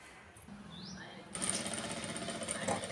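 A sewing machine stitches blouse fabric for a two-in-one blouse, starting quietly and then breaking into a steady, close whirring run that lasts to the end.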